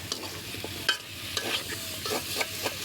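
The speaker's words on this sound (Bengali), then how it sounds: "লাড়াচাড়া দিতেছি" Chicken and papaya frying on a clay stove are stirred with a utensil, giving a steady sizzle broken by irregular scraping strokes, close and moderately loud, with no talking.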